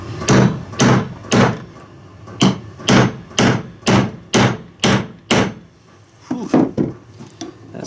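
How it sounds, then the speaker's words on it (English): Hammer blows driving bearings and seals into a Stihl TS400 cut-off saw part, a close series of about a dozen sharp metallic strikes in an uneven rhythm, loud and without talk. "That's gonna take some hammering to get some more on this side."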